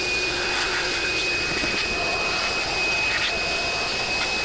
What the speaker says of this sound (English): Forgive me while I turn the vacuum on here.